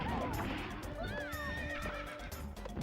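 Horse neighing in the video game Misadventures of Tron Bonne, a short loud whinny with rising and falling pitch over a busy game backdrop.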